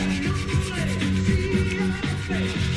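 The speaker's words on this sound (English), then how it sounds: "So doing a light sanding just to get that smoothed out" Light sanding of a painted bike fork, close up: quick rhythmic rubbing strokes of abrasive on a hard surface, steady and continuous.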